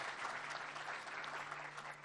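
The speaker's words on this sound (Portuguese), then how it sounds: "merece uma salva de palmas os repórteres" An audience at a social inclusion awards ceremony in Piauí claps continuously, a dense, even wash of many hands with a faint low hum beneath it.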